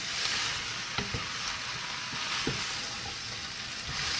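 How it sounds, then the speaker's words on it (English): Sautéed potatoes are stirred in a hot oiled pan, giving a steady close sizzle with a few soft scraping knocks from the spoon. "So I'm just gonna mix this really well."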